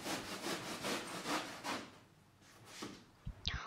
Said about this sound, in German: Bei Axel dem Plastiker werden aus großen Schaumstoffblöcken die Füße und Köpfe nach Vorlage der Bühnenbildlerin Franziska Rast geschnitzt.